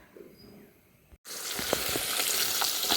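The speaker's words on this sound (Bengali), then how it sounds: "মাছগুলো ভেজে নিচ্ছি দেখুন বন্ধুরা ভালো করে মাছগুলো কড়া করে ভেজে নেবো" Fish pieces hit hot oil in a wok after a quiet moment, bursting into a loud, dense sizzle that stays strong and bubbly, with faint pops and no one talking.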